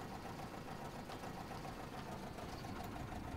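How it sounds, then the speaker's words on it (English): A steady mechanical train engine drone runs throughout with a faint knocking rhythm, moderately distant and fairly quiet, the revs dropping as the clutch goes in during shunting on a railway. "you can just hear the, the RPM of the engine drop as you put the clutch in"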